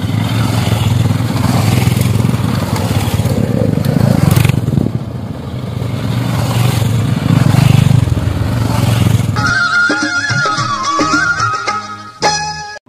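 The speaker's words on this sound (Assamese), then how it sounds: "গহপুৰলৈকে আমি মটৰচাইকেল চলাই" A motorcycle ridden on a road toward Gohpur, Assam, during a UPPL party rally, its engine a loud steady drone with wind rush. Partway through it cuts to different sound with musical tones.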